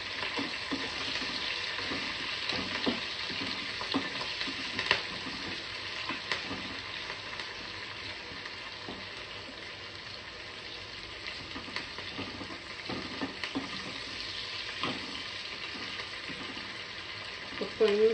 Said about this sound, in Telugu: సో ఇక్కడ నేను పోపు వేస్తున్నానండి. జస్ట్ అలా ఒక ఫ్యూ సెకండ్స్ అట్లా ఫ్రై అవ్వాలండి.